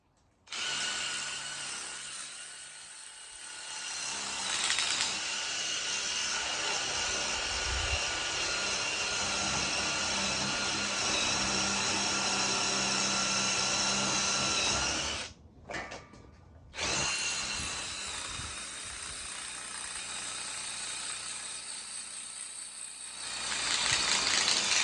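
A power drill with a 1/4 inch bit grinds into masonry in a loud, sustained whine that holds for most of the stretch, drops out briefly, then resumes, with no voices.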